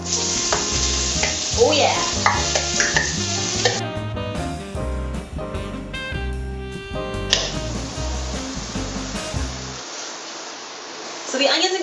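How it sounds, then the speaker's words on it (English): Chopped onion and a large chopped garlic clove fry in a pan with a steady, loud sizzle and stirring, under background music and a brief exclamation. "Now I'm going to put in a medium onion chopped and 1 huge clove of garlic chopped"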